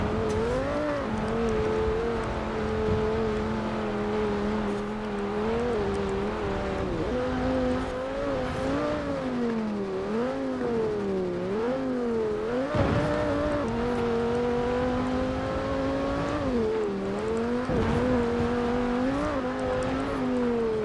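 A stock 2009 Audi RS 6 engine in Forza Horizon 4 revs hard and is held near the redline, its loud, steady drone rising and dipping in pitch through gear changes, with no talking.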